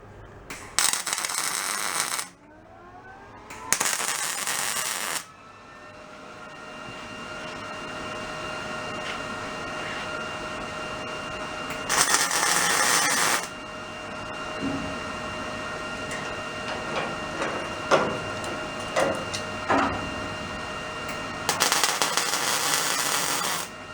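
Tack welding on a steel jail cell door hinge: short crackling arc bursts of a couple of seconds each, separated by a steady machine hum and faint clanks.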